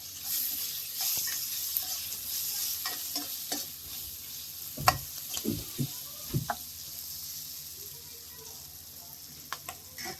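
Ivy gourd (dondakaya) pieces fry in a pan for a dondakaya fry, a soft steady sizzle with intermittent scraping stirs and light clatter, close and fairly quiet.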